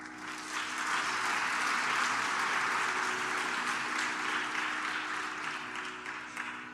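An audience applauds steadily at a title conferment ceremony honouring Dr. K J Yesudas, in honour of the gurus. The clapping is dense and sustained for several seconds, with a low tone held beneath it, and it thins slightly toward the end.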